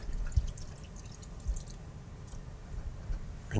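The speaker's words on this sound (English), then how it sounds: "Let me rinse that off real quick." A fan brush is rinsed in paint thinner during an oil painting session, giving soft wet swishing and dripping sounds close by, with a few small splashes.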